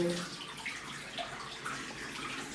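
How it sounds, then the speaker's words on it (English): Tea poured from a sufuria through a sieve, a steady liquid splash and trickle running continuously at close range, fairly quiet, with no talking. "use a sieve to sieve the tea leaves out"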